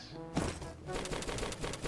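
An MP5 with the Red of Fire 2 skin fires in a mobile shooter game, one sharp shot followed by rapid, repeated automatic bursts, moderately loud and fairly close.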